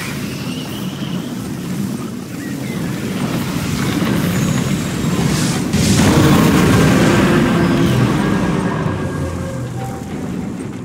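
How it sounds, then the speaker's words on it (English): An ion cannon strike in Command & Conquer 3 Kane's Wrath lands as a deep, loud rumbling blast that builds for several seconds and then holds as a sustained roar, with no voices over it. "Ion cannon activated."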